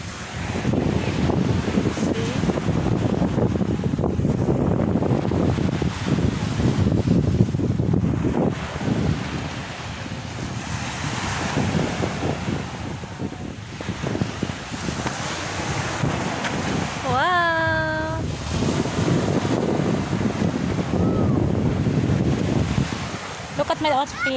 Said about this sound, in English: We're now in Sholi Beach